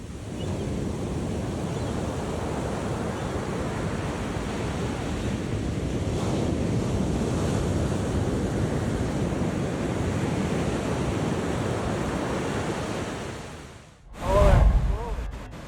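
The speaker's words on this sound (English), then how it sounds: "A small boat gets sucked into a massive wave." Heavy ocean surf roars continuously around a small boat caught in a massive wave, with strong wind buffeting the microphone, ending in a brief loud gust.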